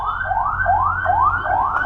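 An ambulance siren wails in a fast, repeating rising sweep, loud and steady, with a low rumble of traffic underneath.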